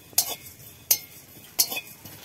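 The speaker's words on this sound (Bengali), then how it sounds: "এই যে এখন জিরা আর ধনেটা ভেজে নেব" Cumin and coriander seeds dry-roasting in a pan, with three crisp scraping strokes of a utensil against the metal spaced evenly, close and clear, no voices.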